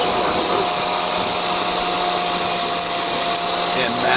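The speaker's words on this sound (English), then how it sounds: "you notice I have the guard on the grinder" An angle grinder fitted with a guard runs steadily on metal while a steel firepit is built, a loud continuous high whine with no breaks for about four seconds.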